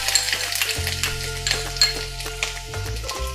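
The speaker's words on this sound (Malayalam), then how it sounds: "ഞാൻ നമ്മുടെ ആ ചിക്കൻ ഫ്രൈ ചെയ്യാൻ ഉപയോഗിച്ച അതേ എണ്ണ തന്നെയാണ് ഉപയോഗിക്കുന്നത്" Finely chopped ginger dropped into hot oil previously used for frying chicken, a close, loud crackling sizzle that holds steadily with light stirring clinks.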